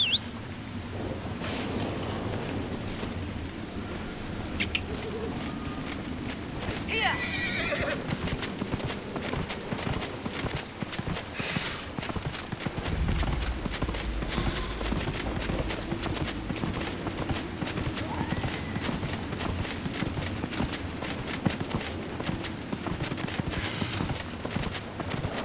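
Horse hooves clip-clopping at a steady trot in the video game Dragon Age Inquisition, with a neigh early on, over outdoor wind and ambience.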